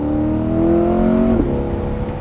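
A 2021 Corvette C8's V8 engine revs up and holds a rising, throaty drone before dropping off, loud and close.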